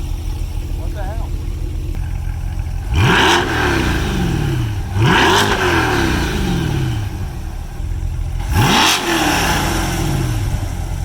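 A 2020 C8 Corvette fitted with aftermarket headers, exhaust open, idling with a deep rumble and then blipped three times, each rev a loud, close surge that climbs sharply and falls back to idle.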